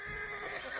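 A black horse in the Ghost of Tsushima video game gives a brief, fairly faint whinny over steady game ambience.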